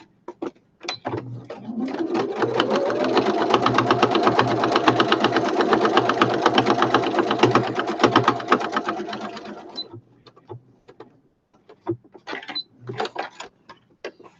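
A sewing machine stitches fabric pieces for woodland-themed journal ephemera in one loud, close, sustained run of about nine seconds, followed by a few scattered clicks and handling taps.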